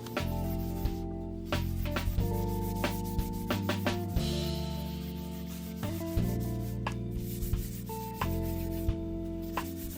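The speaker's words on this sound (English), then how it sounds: "I'm going to be sanding it down smooth using 220 grit sandpaper." Steady back-and-forth scratching of 220 grit sandpaper smoothing primer on a dresser, rhythmic strokes repeated throughout, close and fairly loud with no talking.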